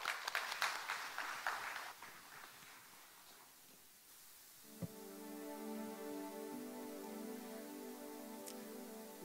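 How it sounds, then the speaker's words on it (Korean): A church congregation claps to welcome a speaker, a brief burst of applause that fades within a few seconds before sustained instrumental tones take over. "박수로 우리 환영할까요?"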